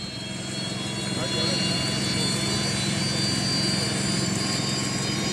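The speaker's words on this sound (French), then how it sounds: "Effectivement, hein, Francis, j'ai l'impression que ça sort un petit peu de l'échappement arrière." A jet-powered dragster's jet engine runs at a drag racing event, a loud continuous turbine roar and whine that swells slightly after the first second, with voices talking over it.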